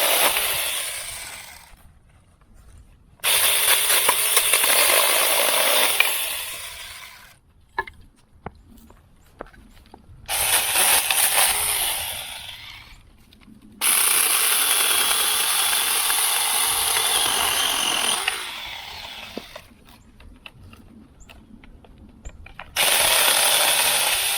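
A Saker mini electric chainsaw cuts through firewood outdoors in a snowstorm. Its loud, bright motor whine comes in several long bursts with short quiet gaps between the cuts.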